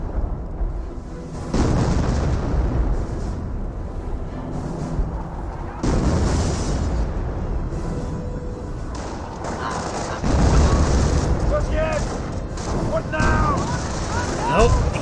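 Artillery shells burst in a Company of Heroes battle, heavy booms and rumbling blasts rolling one after another, with a commentator talking over the bombardment.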